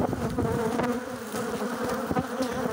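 Honeybees buzzing around an apiary hive, a dense continuous drone of many bees close by, steady throughout with no voices.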